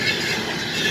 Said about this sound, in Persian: قطار رفت یک کم سرصدا بود